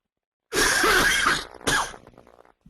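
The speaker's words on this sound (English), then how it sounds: "Excuse me, I'm just going to cough for a moment here." A single loud, harsh cough close by, followed by a second shorter cough and a fading breath.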